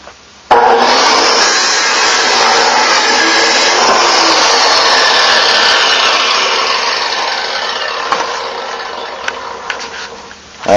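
A 14-inch saw cuts through a steel piece with a loud, sustained, harsh grinding whine that holds for about ten seconds and then tapers off near the end.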